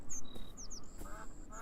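Ducks quack in a calm woodland scene of the video game Beyond Eyes, a few short calls with chirping birds over soft ambient background, fairly quiet and without talk.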